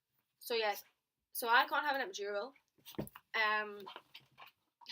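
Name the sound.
dog whimpering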